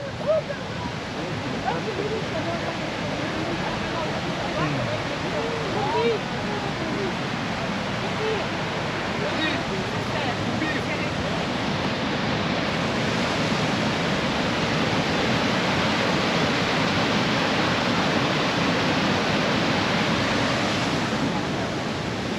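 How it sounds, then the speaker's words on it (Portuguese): A waterfall on the Mullerthal Trail in Luxembourg pours in a steady, broad rushing hiss that runs unbroken throughout, with a voice briefly talking over it. "Vamos mais aqui abaixo para ver a cascata mais de frente um bocado."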